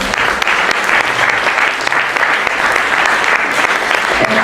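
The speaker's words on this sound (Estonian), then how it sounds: "Aplaus" Audience at a charity concert applauding, a dense, steady patter of many hands clapping throughout, close and loud, with no talk over it.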